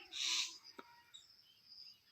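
Birds call in a forest, with one loud, clear call near the start followed by fainter, scattered chirps over quiet background ambience.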